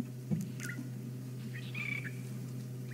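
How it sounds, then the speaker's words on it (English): Drongos call at a sunrise wildlife drive in the African bush, with a few short, sharp chirps and a brief warbling note standing out faintly over a steady low vehicle hum. "Hear the drongos calling."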